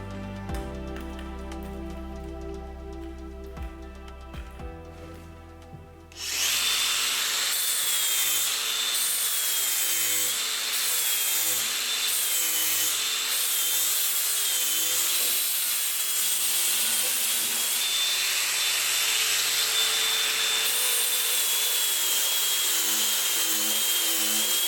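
DeWalt DCG450 18V cordless brushless angle grinder sanding wood with a 120-grit disc: after a quieter opening, the grinder kicks in sharply and runs loud and continuous with a high motor whine and gritty rubbing against the wood.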